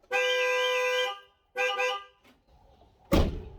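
A car alarm blares in two wavering electronic bursts, followed by a sharp thunk, loud and close.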